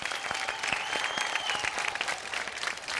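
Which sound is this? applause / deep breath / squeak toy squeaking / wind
applause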